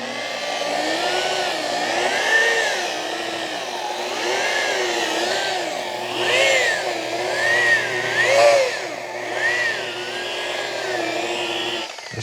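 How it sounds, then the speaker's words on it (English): A variable speed polisher runs at its slowest speed on the clear coat of a 1940 Ford-inspired hardtop coupe, a steady close hum whose pitch wavers and rises slightly as pressure changes. "get a good grip on your variable speed polisher"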